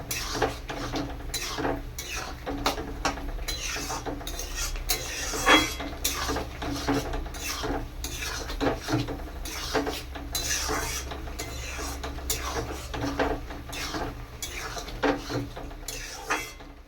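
Lau shukto, a Bengali bottle gourd dish, stirred in a pot on a gas stove: steady scraping and clinking of a spoon against the metal pot, repeated through the whole stretch at close range.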